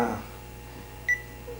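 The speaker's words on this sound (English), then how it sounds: "see how the beep sound? I think that's the program is activating" One short, high electronic beep from a Panasonic EP-MA10 massage chair rings out near the middle as a program activates, with a faint low hum running underneath.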